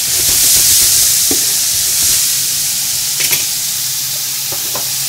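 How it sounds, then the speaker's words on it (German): Bell pepper, spring onion, leek and ginger fry in a pan with a steady, loud sizzle and hiss, broken by a few soft clicks and scrapes of stirring. "Lassen das Gemüse leicht anbraten."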